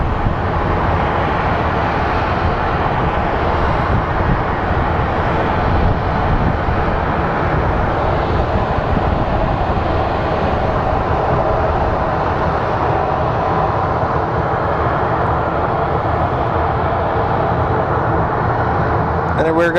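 An airplane passes at Phoenix Sky Harbor airport with a loud, sustained jet roar that fills the whole stretch. Voices talk faintly underneath.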